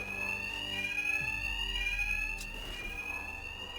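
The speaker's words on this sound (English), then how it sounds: "My attacks will be covered by the noise of the alarm." An alarm rings in Batman: Arkham Knight, a steady, piercing electronic tone that holds continuously with a faint rumble beneath, moderately loud and alone without talk.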